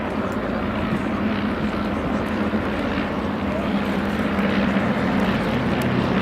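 Formation of eight Tiger Moth-style biplanes of the Tiger 9 team flying at the RAF Cosford air show, a continuous droning propeller engine hum at middle distance, steady and unbroken, with a commentator talking over it.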